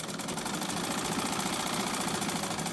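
A sewing machine stitches a zip into a pair of trousers, giving a steady, close, rapid mechanical chatter that continues without a break.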